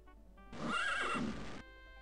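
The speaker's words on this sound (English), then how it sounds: "thousands of horses and camels" Horses in the Daggerfall video game give a loud, close whinny with a rising and falling pitch that lasts about a second, over a faint steady game hum.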